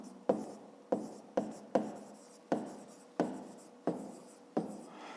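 Handwriting on paper during a 5th-grade math lesson, heard as eight or so sharp pen strokes that start abruptly and fade, each followed by a short scratching rub, close and clear with no voice over them.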